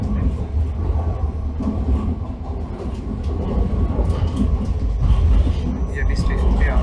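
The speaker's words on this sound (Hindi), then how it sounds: "और ये है जी ट्रेन।" A train pulling into the station at Szentendre, Hungary, a loud steady rumble with rolling wheel clatter that grows slightly heavier toward the end, while someone talks over it.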